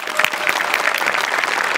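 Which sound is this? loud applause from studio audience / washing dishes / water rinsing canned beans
loud applause from studio audience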